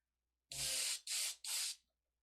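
An airbrush sprays paint in three short hissing bursts, close and fairly loud, with brief silent gaps between them.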